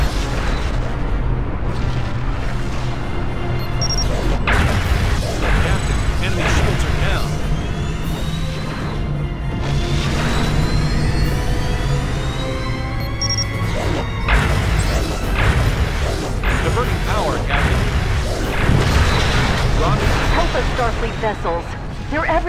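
Space battle explosions and smashing impacts from Star Trek Legacy, loud and dense across the whole stretch, layered with booming crashes, sweeping sci-fi effects and game voices speaking over them.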